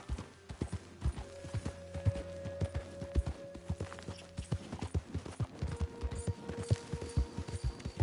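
Horse hooves clip-clop in a steady walking rhythm through a camp in Red Dead Redemption 2, close and fairly loud, with faint creaking and background tones and no talk.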